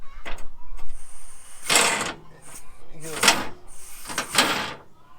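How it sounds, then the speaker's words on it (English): Metallic ratcheting and clanking bursts from a wrench loosening rear subframe bolts under a lifted vehicle, coming in three or four separate spells with short pauses between them, close and fairly loud. "My plan is to loosen all these bolts up, but like keep a couple threads in them so it can't just take off on me"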